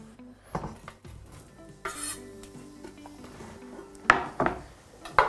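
Red onions cooking in a warm pan in a home kitchen while spinach is prepared, with utensils clinking and scraping against the pan over a faint steady sizzle and a few sharper knocks.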